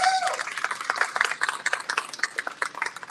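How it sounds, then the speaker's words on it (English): An audience at a Houston arts event applauds a visual arts exhibit, a soft, dense patter of many hands clapping at a distance. "Round of applause for that, please."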